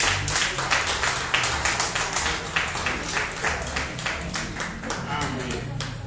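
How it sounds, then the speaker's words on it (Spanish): Church congregation clapping for the mothers during a Spanish-language service: steady, dense applause from a crowd of hands, moderately close, with some voices mixed in throughout. "Pues los demás denles un fuerte aplauso a las mamás hoy."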